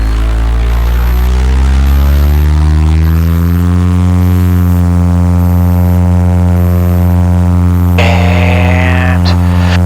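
A light aircraft engine holds a loud, steady propeller drone that climbs in pitch as power builds during the takeoff roll, with no voices.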